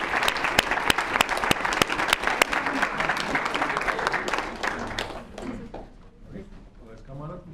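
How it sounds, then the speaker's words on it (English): Audience applause at a city council meeting for local service clubs such as the Leos Club, a dense crowd of clapping with a few sharp louder claps, fading toward the end as a voice talks underneath. "Let's give them a big hand of applause."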